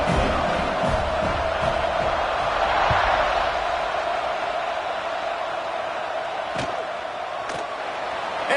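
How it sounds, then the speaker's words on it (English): A stadium crowd in College Football 26 roars continuously as a dense, loud wash, swelling slightly and carrying a few sharp thuds near the end, with no talk over it. "this crowd is feeling themselves after that last drive"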